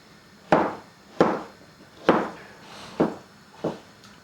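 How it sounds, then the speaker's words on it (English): A knife dices potato on a cutting board for borshch, giving five sharp, evenly spaced chops close by with no talking. "we need to dice our potato, and we will boil for 20 minutes."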